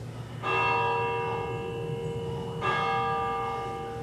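A large bell tolls twice during a stage performance of Macbeth. Each strike is loud and bright, and its long ringing tone hangs and slowly fades over a low background hum.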